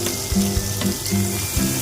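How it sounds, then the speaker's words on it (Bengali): Pointed gourd and boiled potatoes fry in hot oil in a pan, a steady sizzle broken by a few low thumps and clunks as the pieces are moved around. "তার জন্য তেল দিয়ে দিলাম, পটলটাকে ভাজতে দিয়ে দিয়েছি আমি।"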